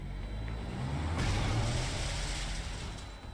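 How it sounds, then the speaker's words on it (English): A truck in the Arknights game roars in and brakes to a stop, a loud rumbling engine swelling in the middle with a hissing, screeching edge, then settling; no speech. "A truck appears out of nowhere, coming to a screeching stop in their path."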